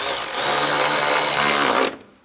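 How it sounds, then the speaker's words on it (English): A power tool drives screws while a panel is fitted during a VVT solenoid replacement on a 2004-2010 BMW X3, giving a loud, steady whir that runs nearly two seconds and then cuts off abruptly. "get these started, and tighten them down."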